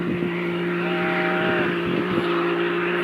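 A Polaris or Can-Am ATV drives laps on an island beach, heard as a steady, continuous engine drone at moderate distance with a faint higher whine partway through.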